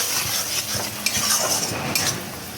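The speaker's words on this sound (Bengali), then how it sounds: "এবার পোস্তটা দিয়ে ভালো করে কষাতে হবে" A spice paste with poppy seeds is stir-fried in a pan, a soft continuous sizzle broken by irregular scraping strokes and a few sharp metallic clinks of the spatula against the pan, close by and without speech.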